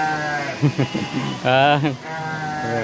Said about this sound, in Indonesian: Ada peternakan domba teman-teman ya